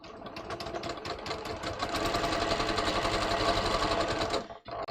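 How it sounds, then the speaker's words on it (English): Sewing machine running a triple zigzag stitch across the cut edge of overlapped knit elastic, a steady close whirring with rapid needle ticking for about four seconds before stopping abruptly. "I'm going to use my triple zigzag to zigzag down across the cut edge"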